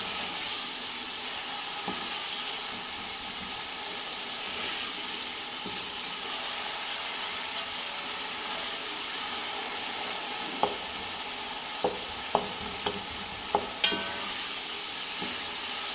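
Steady crackling sizzle of minced mutton frying in a pan, with occasional scrapes and clinks of a spoon stirring, close and continuous without talk.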